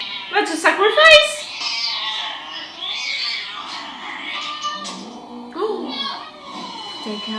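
A cat yowls in a scene from the film Coraline, a drawn-out wailing cry early on, then thinner mewling amid excited voices talking throughout.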